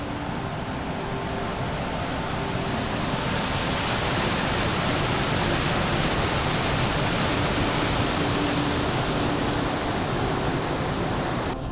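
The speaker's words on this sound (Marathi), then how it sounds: "हा बघू शकता तुम्ही इकडे पण एक वॉटरफॉल आहे" A steady, dense roar of rushing water from Kalmandavi waterfall near Jawhar, pouring nearby, constant and unbroken throughout with no voices.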